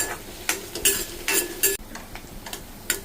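Green chillies, onions and curry leaves stirred in a frying pan, with a soft sizzle beneath repeated bright scrapes of a spoon against the pan in an uneven rhythm.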